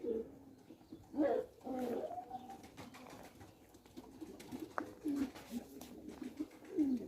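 Pigeons coo softly nearby in repeated low, rolling calls, several birds overlapping in irregular bursts against a quiet background.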